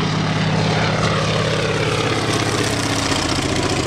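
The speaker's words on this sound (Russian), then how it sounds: "самолет Як-12 сбрасывает на очаг возгорания 500 литров воды" A Yak-12 propeller airplane flies over a fire it is fighting, its engine droning loud and steady throughout with a strong, continuous buzz and no speech.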